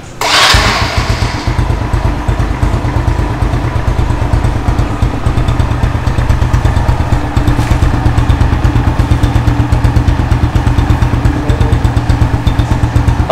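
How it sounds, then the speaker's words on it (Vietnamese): A Honda Dream motorcycle fitted with Takegawa parts fires up with a sharp burst, then settles into a loud, close, steady idle with a fast, even putter that runs to the end. "Chiếc này nó im, mới dám nổ máy nè."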